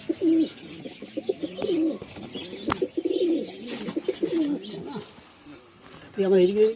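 Kalanka pigeons in a village loft coo in repeated low, throaty bursts, close and clear, with brief chirps and a sharp knock midway and rustling between calls.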